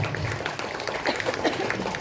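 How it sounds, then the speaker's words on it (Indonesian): Audience applause at a parenting education seminar for parents, a steady wash of clapping from many hands filling the room at moderate level. "Tepuk tangan semuanya, luar biasa."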